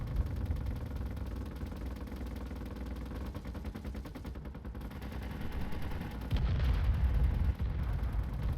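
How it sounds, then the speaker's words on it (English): Rumbling explosions and heavy weapon fire in Space Engineers form a dense, continuous low roar under a mechanical engine hum, growing louder and heavier in the last few seconds. "is that him blowing up, or is that things on mine blowing up?"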